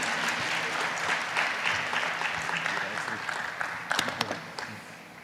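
Steady applause from a conference audience at an annual foundation meeting in 2018, filling the hall for several seconds, with a few louder claps standing out near the end and faint voices underneath.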